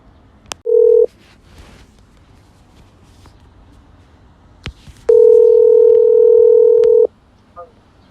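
Touch-tone keypad beeps open a phone call, a short tone near the start followed later by a longer steady dial tone lasting about two seconds, clear and close with a few soft clicks between.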